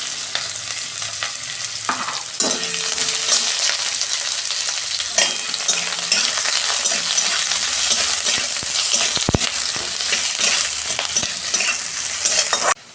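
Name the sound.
onions and garlic frying in oil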